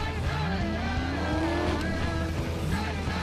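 Maserati racing in Need for Speed Most Wanted (2012), a steady loud engine drone with rising revs and tire noise throughout.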